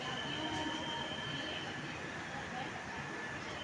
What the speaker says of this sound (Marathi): ट्रेन निघाली आपली.